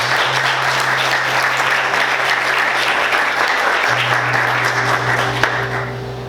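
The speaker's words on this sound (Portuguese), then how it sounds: "Vamos aplaudir o Senhor." A church congregation applauds, a loud, sustained wash of many hands clapping together, steady and even, with a low sustained tone running beneath.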